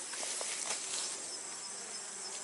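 Honey bees buzz steadily inside a swarm trap box, a dense continuous hum that is close and fairly soft, with no voices over it.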